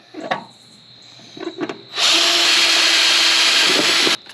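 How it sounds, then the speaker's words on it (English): A power drill drilling into rock whines loudly and steadily for about two seconds, preceded by a few short knocks and brief scraping sounds. "I'm going to put it underneath, and I'm going to drill into the rock."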